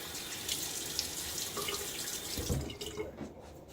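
Cool hard tap water runs steadily into a bathroom sink while a man wets his face before a shave, a close continuous splashing stream that thins and breaks off near the end.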